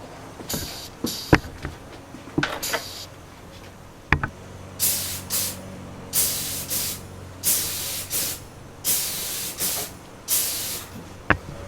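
Short bursts of spray paint as another coat goes onto the C-pillar of a Mazda RX3, each hiss a second or so long in an irregular rhythm, close up, with a few knocks and clicks between them and no talking.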